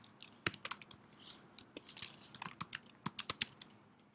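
Rapid, irregular clicking of computer keys being typed, close by, with bursts of quick keystrokes and short pauses.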